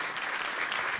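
Audience at an awards ceremony applauds steadily, a dense, even wash of clapping filling the whole moment at close range with no voices standing out.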